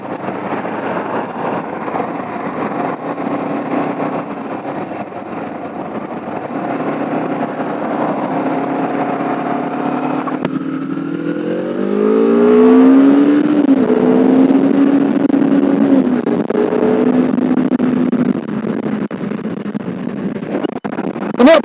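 A borrowed motorcycle accelerates on a night ride in Indonesia, its engine droning steadily under strong wind rush, then climbing in pitch through rising gear sweeps near the end, close and continuous.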